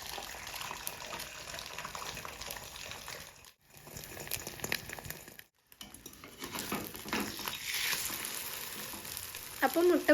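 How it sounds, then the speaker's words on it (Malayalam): An egg fries in a pan with salt and green chilli, a continuous soft sizzle with occasional clinks of utensils and stirring, broken by two brief silent cuts. "ഞാൻ മുട്ട പൊരിക്കാമെന്ന് കരുതി"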